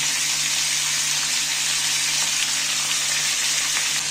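A steady, loud sizzle of tomatoes frying in a covered pan over low heat, continuous crackling hiss with no voices.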